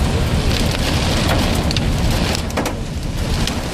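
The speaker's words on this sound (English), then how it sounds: "I hear some hail." Hail and heavy rain pounding on a vehicle during a storm, a loud continuous dense patter with scattered sharper impacts throughout.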